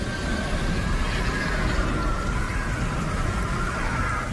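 Rain falling in a dense, even wash of noise with a faint low rumble beneath, continuous and steady throughout, no voices.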